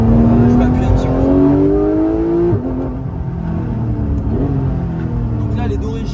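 A Porsche 991 GT3 Clubsport with its stock exhaust revs loud and close in second gear, pitch rising to a sharp cutoff, then a lower rumble with another brief blip, as someone talks over it.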